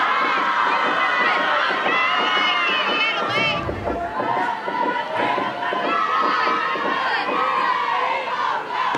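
Crowd at a college softball game, Alabama vs Minnesota, cheering and shouting loudly and continuously, a dense near roar that holds throughout with a brief swell after a close pitch.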